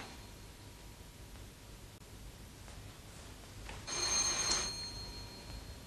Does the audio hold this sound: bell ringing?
yes